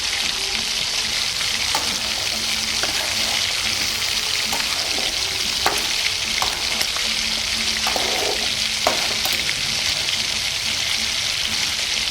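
Onions fry with salt in a home kitchen pan, producing a continuous, even hiss of sizzling oil throughout, with occasional sharp spatula clicks and no voices.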